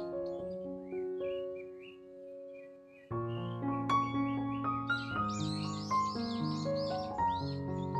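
Birds chirp and call in quick high bursts over gentle instrumental music with sustained melodic notes, the calls growing busier in the second half, in a quiet spring garden by Daecheong Lake in Okcheon, South Korea.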